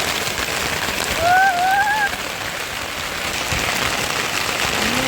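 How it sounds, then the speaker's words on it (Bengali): Heavy thunderstorm rain drums down loudly and continuously over a wetland during a fishing outing, a thick roaring hiss; a short whistle-like tone cuts through briefly early on. "দারুণ বৃষ্টি পড়তেছে রে"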